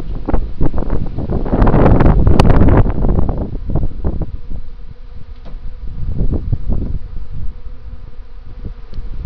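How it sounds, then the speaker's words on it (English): A swarm of honey bees hums densely and close, a continuous insect buzz swelling and easing while wind gusts buffet the microphone, with no voices. "I think I'm catching a swarm here."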